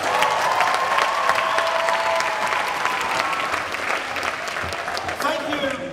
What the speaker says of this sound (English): Thank you for giving me that wonderful round of applause.